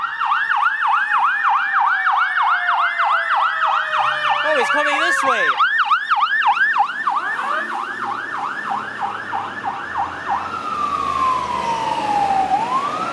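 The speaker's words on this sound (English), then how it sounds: "it's a fire truck going on the wrong side, and there's two of them" Two fire trucks race past on a residential avenue in East York, Toronto, sirens wailing in steady rapid sweeps with a brief horn blast midway, loud and close before fading into a descending tone; someone speaks briefly over them.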